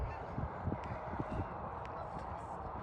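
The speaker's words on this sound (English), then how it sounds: "There's lots of geese." Geese honking at a lake in Rochester, Minnesota, a flock of many birds calling in scattered short honks over steady outdoor background noise.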